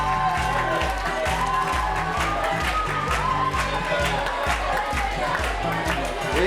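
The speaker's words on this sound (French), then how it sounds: "On les applaudit, allez!" An audience applauds an improv team at a national improv theatre final, clapping and cheering over a steady beat of loud, thumping music that runs throughout.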